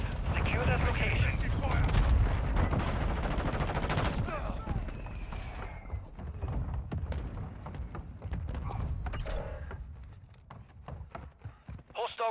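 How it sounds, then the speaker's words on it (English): A mortar strike in Call of Duty Modern Warfare 2 multiplayer, with heavy gunfire and explosive blasts rolling through a loud battle, and radio voices talking over the chaos. "Requested fire. Target marked. Copy. Mortar strike in."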